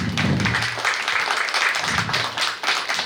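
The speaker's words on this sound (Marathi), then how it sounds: "दोघांसाठी जोरदार टाळ्या." Applause at a birthday gathering for two people, a brief burst of scattered hand clapping lasting a few seconds, close and moderately loud, with some voices mixed in.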